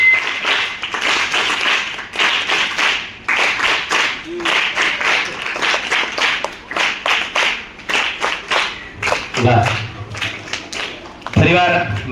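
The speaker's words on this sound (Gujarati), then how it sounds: "જોરદાર તાળીઓથી વધાવી લઈએ." A crowd claps loudly and steadily at a school science fair held at Vinoba Ashram School in Gadat. A voice cuts in briefly near the end.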